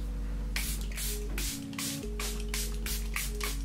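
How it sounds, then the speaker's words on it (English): Charlotte Tilbury Airbrush Flawless setting spray misted in a quick run of short hissing bursts, about seven or eight puffs in steady rhythm, close and clear over a constant low hum. "go on top of that with my Charlotte Tilbury Airbrush Flawless Setting Spray"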